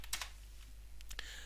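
Several quick keystrokes on a computer keyboard while working in Unreal Engine 5.2, clustered in short bursts near the start and again toward the end, fairly close and crisp.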